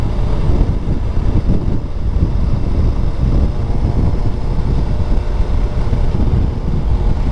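Dense, constant wind roar buffeting a rider's helmet at speed on a Suzuki Hayabusa motorcycle, loud and unbroken throughout with no voices.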